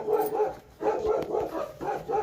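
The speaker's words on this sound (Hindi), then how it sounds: "देखो बाहर कैसे भौंक रहा है नए इंसान को देख के" A dog barks repeatedly outside at a stranger in a hill village, rhythmic bursts of barking heard from a moderate distance, fairly faint, with no talk.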